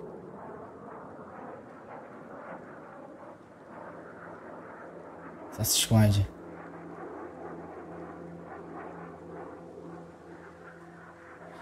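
An airplane approaches in a sniper shooter video game, its engine drone a steady, fairly quiet hum throughout, broken by a sudden loud burst near the middle while a voice speaks briefly.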